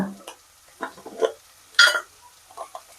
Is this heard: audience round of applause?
no